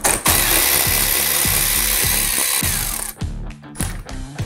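A socket wrench ratchets steadily to remove a size 10 bolt beneath the plastic valance trim of a 2021 Ford Bronco, with loud, close, rapid clicking runs that pause and resume near the end.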